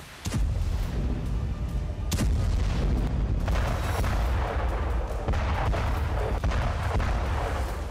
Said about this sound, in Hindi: कहीं आर्टिलरी शेल से यूक्रेनी सरजमी दहली, तो कहीं MLRS और मिसाइलों ने बारूदी कोहराम मचाया।